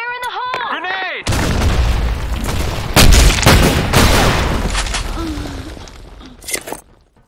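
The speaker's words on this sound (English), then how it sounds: "Fire in the hole! Grenade!" A grenade in the shooter BlackShot goes off with a heavy, loud boom, followed by more blasts and gunfire, and game voice lines are heard near the start.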